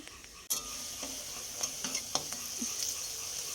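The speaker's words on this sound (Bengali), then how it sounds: "বাঁধাকপিগুলো ভাজা হয়েই গেছে" Shredded cabbage frying in a pan gives a steady, moderate hiss of sizzling oil, broken by a few light scrapes and clinks as it is stirred.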